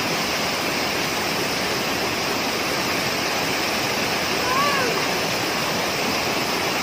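A tall waterfall near a mountaintop roars in a steady, dense rush of falling water, close and constant for the whole stretch, with no clear speech over it.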